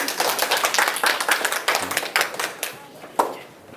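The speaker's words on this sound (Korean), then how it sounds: "박수로 맞이해주세요." An audience at a public science lecture in Daejeon claps to welcome the lecturer, dense quick hand claps that thin out toward the end, leaving a few scattered claps.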